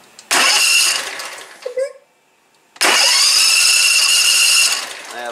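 A Grasshopper 126 mower engine cranks and catches, runs briefly and cuts out, then starts again and runs at a loud, steady idle up close.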